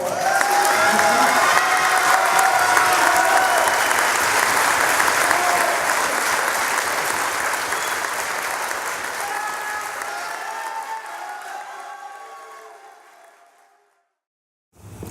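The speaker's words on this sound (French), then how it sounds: "Mon troisième rêve, c'était d'immortaliser ce soir avec vous en l'applaudissant." Sustained audience applause in a hall at the close of a tribute evening, a dense, loud clatter of many hands that gradually thins and fades out near the end.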